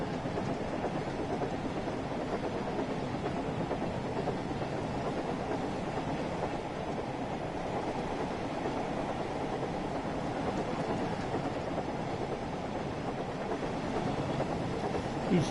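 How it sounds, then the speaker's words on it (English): A steam locomotive in Train Sim World 5 runs along with a continuous broadband rumble and faint rhythmic chuffing and rail noise, steady and even throughout. "He's chuffing his little heart out, look."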